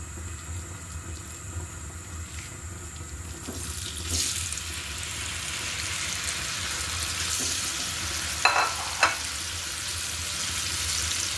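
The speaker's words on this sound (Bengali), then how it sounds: "ভালো করে তেলে ভেজে নিয়ে লাস্ট পর্যায়ে ডিমটা অ্যাড করে দিব" Green banana peel kebabs frying in oil, a soft continuous sizzle with a low bubbling bed, broken by a few brief clinks and scrapes near the end, close up with no talking.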